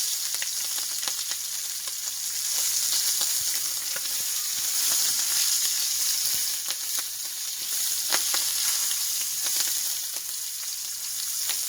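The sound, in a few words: shrimp and chicken sizzling in oil in a pan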